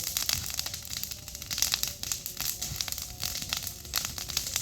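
A small fire crackles with dense, irregular snaps and pops while sweet potatoes roast in it, the crackling close and steady throughout.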